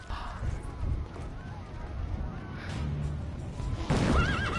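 Horses whinny and hooves clop in the video game Assassin's Creed Brotherhood, a sharp neigh rising at the end over game ambience, with voices speaking.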